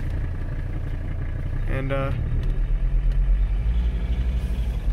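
A 1985 Mercedes 300CD engine runs steadily while the car is driven at night, a continuous low rumble that swells slightly toward the end, with a short spoken word over it.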